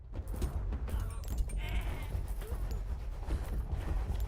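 A sheep in a video game gives a brief bleat over constant low rumbling game ambience, fairly faint and mixed in with other background sounds.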